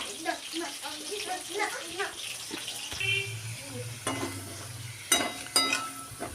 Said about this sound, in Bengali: আলুগুলোকে আমি এখানে লাল করে ভেজে নিলাম